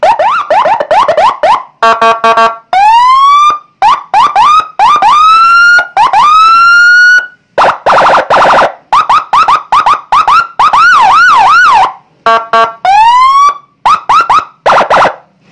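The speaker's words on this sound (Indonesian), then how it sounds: "Sirene Patwal Senken guys Ini model terbaru suaranya ya" Piercing police patrol siren, a Senken Whelen unit with six buttons fitted to a Mitsubishi Pajero, switching between fast yelps, long rising wails and choppy warble tones, loud and close with brief gaps between patterns.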